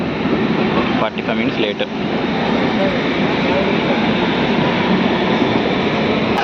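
A DEMU train on the Mahabubnagar–Kacheguda run rumbles into Kacheguda station with a loud, steady roar throughout, while a person talks over the noise.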